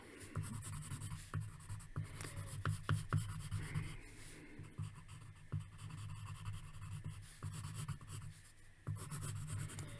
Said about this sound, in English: Let's draw his eye here.